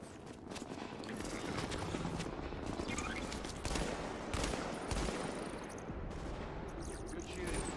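Dense, continuous gunfire in the video game The Division, with overlapping rattling shots and bursts that form a steady, rough wall of noise throughout.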